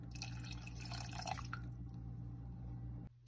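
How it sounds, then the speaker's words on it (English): Water is poured into a pot of soup thickened with roasted mashed potato powder, a faint trickling splash that fades to a quieter flow before stopping, with no talking. "Little more water."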